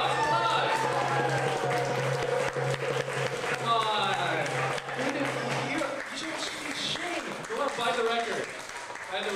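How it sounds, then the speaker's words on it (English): Applause from an audience at a live show in the El Campo Ruse Theater, a broad crowd wash mixed with voices and chatter running under it throughout, fairly close and steady before thinning toward the end. "Applause"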